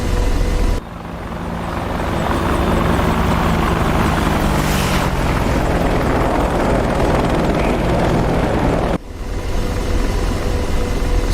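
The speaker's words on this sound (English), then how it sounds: "learn how to fly this helicopter" An AH-64D Apache attack helicopter in the DCS World flight simulator, its rotor and engine roaring steadily and loudly throughout, with a brief dip near the start and another near the end.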